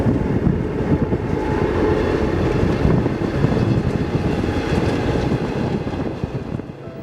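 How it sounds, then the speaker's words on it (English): A continuous low rumble and rattle of a moving train, steady throughout, with wind-like noise and no speech. "young Jongyu is taking the train alone"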